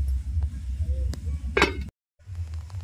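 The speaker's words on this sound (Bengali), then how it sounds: "ঢাকনা দিয়ে দেবো একটু।" A lid set onto a cooking pot of dal gives a single bright clink against a low kitchen hum, followed by a brief drop to silence.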